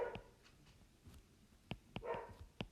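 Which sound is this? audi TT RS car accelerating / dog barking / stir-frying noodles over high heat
dog barking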